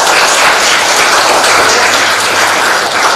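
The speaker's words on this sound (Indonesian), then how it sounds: "Tepuk tangan untuk Mbak Renata" A classroom audience applauds a student, a dense, steady wash of clapping that runs loud and unbroken the whole time, with no talk over it.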